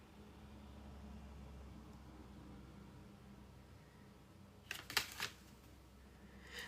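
Tarot cards are shuffled in one quick riffling burst, lasting about half a second, against a quiet room hiss.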